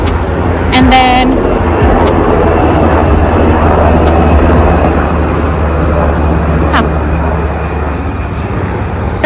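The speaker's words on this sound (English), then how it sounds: "that's why you're going to hear a lot of these airplanes passing by" A low, loud, continuous airplane roar passes overhead near Ronald Reagan Airport on a hiking trail, with its broad rumble filling the whole stretch and a brief whine and clatter near the start.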